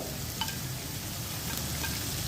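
Gobi manchurian with capsicum, pepper and salt tossed in a hot pan, a steady low frying hiss with a few faint spatula scrapes.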